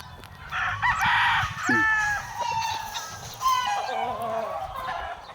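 A brass back gamefowl rooster at a game farm crows loudly nearby, with a second crow and some clucking following, as someone talks underneath.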